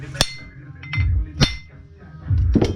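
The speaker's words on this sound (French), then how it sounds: "Maintenant, petit coup de marteau." Sharp metallic hammer taps on a Honda CRF 250 engine part during a rebuild, three distinct ringing clinks spaced about a second apart, close and loud, with low knocking thuds between them.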